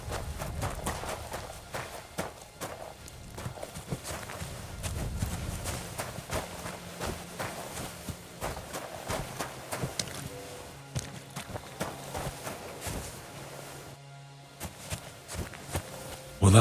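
Horse hooves clip-clop steadily on the ground in the video game Kingdom Come: Deliverance 2, a regular rhythmic beat running throughout, with occasional talk and game sounds over it.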